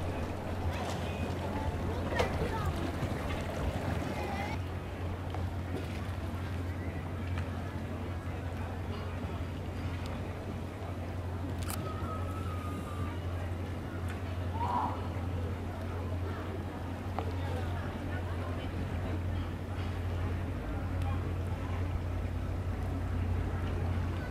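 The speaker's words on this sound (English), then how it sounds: "drive the boat in the evening to try to drain the battery a bit." An electric solar-powered boat cruises across the water in the evening, giving a steady low hum with a constant wash of wind and water noise throughout.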